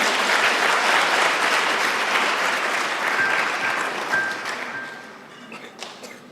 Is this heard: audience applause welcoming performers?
yes